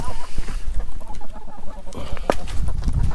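Americana chickens cluck and peck around outside on frozen, snow-covered ground, several short close clucks scattered through a continuous outdoor rustle, with a sharper squawk partway through.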